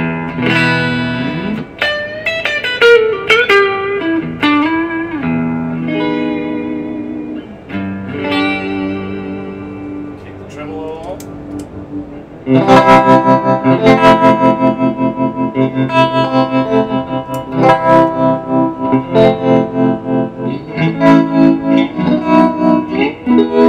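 An electric guitar plays clean chords and riffs through an Orange TremLord 30 amp with pulsing tremolo and washy reverb, the sound swirling and sustaining, louder in the second half.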